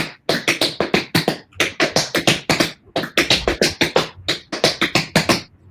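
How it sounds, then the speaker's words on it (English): Crisp, rapid tap shoe strikes of a double time step in a steady syncopated pattern, grouped phrases of quick clicks separated by short pauses, close and loud with no talking. "So the double time step would be like this."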